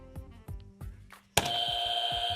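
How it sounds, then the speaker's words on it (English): Game show buzzers pressed in a quick contest: a few short electronic blips at first, then one buzzer sounds a loud, steady electronic tone that holds to the end, close and clear. "so what is the rules with the buzzers?"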